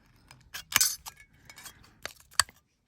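Scissors cutting an aluminium drinks can: a few sharp, close metallic snips and crinkles in irregular bursts, with quiet gaps between them and silence at the end.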